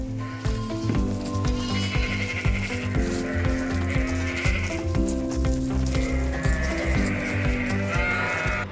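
Sheep bleat on a farm, a flock calling repeatedly in overlapping cries over a steady, busy background, fairly close and loud throughout.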